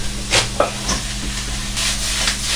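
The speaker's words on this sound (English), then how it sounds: "Let that stir fry" Mange tout stir-frying in a hot pan gives a steady close sizzle, broken by a few sharp clatters and scrapes of stirring.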